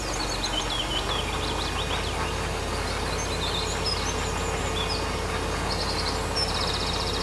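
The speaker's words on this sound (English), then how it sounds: "those birds here are rude" Outdoor bird calls in a farm valley: scattered chirps and short calls, some faint and distant, over a steady broad background noise, with a rapid buzzing trill near the end.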